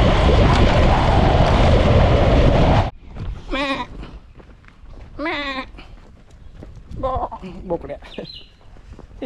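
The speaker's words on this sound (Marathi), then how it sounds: "हे बकरीची माया आहे ना, हे बकरीची पिल्ल आहे ना बकरी" Goat kids bleat in short wavering calls, several of them spaced across the clip and heard close by, after a loud burst of wind or road rumble cuts off at the start; a voice speaks between the bleats.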